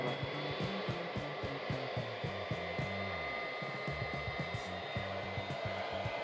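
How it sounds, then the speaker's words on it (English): A GEO-BOOST-7000 turbocharger test bench preheats a turbocharger with a loud, steady blowing roar like a hot-air blower, overlaid by a low pulsing electronic beeping pattern throughout; no talking. "Turbocharger preheating is about to begin."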